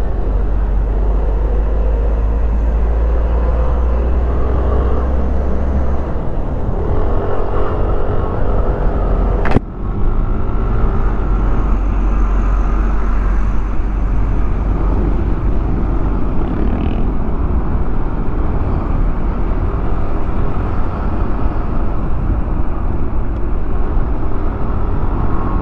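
Traffic on a highway toward Legazpi City in Albay, a continuous loud roar of passing vehicles and engine rumble with one sharp knock partway through, and no talking.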